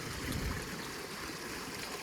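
Rainwater runs along a drain channel beside a rural path during a downpour, making a soft, steady rushing trickle that stays fairly faint and even, with no talk.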